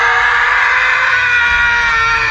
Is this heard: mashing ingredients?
no